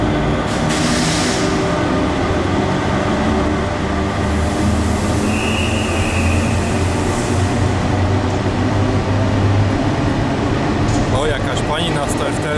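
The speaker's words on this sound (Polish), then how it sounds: "teraz odjeżdża pociąg TGV do Amsterdamu" A TGV train bound for Amsterdam rumbles loudly past at close range departing Antwerp Central station, wheels and cars clattering steadily, with a brief high squeal partway through.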